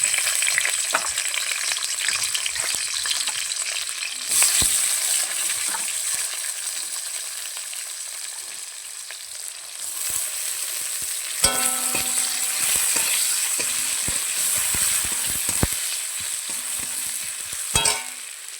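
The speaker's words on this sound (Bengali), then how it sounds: "তেল গরম হয়ে গেছে, আমি কুচনো পেঁয়াজ দিয়ে দেবো" Chopped onion frying in hot oil tempered with cumin seeds: a loud, continuous hiss of sizzling that swells when the onion goes in, with scattered crackles and spoon scrapes over nearly twenty seconds.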